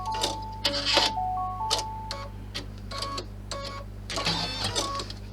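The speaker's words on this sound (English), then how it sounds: "I'm going to stitch out that one now." An embroidery machine stitches out a key clutch design in a steady run of rapid mechanical needle clicks and whirs, with a low motor hum underneath, close and fairly loud with no talking.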